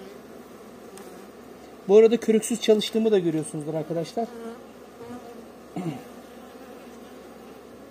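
Istranca honey bees buzz steadily around an open hive during a colony inspection, a continuous droning swarm with someone talking over it for much of the time.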